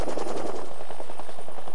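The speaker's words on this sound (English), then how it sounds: "Before moving, troops should wait for the helicopter to take off." A military helicopter, operated by Canadian Forces, gives a loud, close, steady rotor roar with rapid chopping pulses and no voices.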